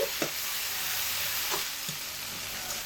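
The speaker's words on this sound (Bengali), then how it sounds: "এবার এগুলোকে একসাথে খুব ভালোভাবে কষিয়ে দিচ্ছি" Onion, garlic and finely chopped tomato fry together in a pan for an egg dish, giving a steady close sizzle with a few soft scrapes of stirring and no voices.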